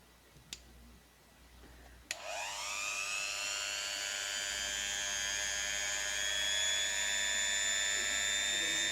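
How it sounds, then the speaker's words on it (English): A Dremel rotary tool with a wire wheel polishing bare metal on a 1968 Mercury Cougar, heard close and alone. After a couple of faint clicks it spins up into a steady, piercing high whine that holds to the end. "but we can get rid of that with the Dremel."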